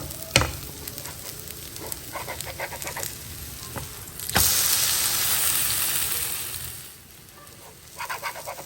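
Dosa batter sizzles steadily on a hot pan, broken by sharp scraping clicks as it is turned after one side cooks, then a louder burst of frying hiss that gradually settles.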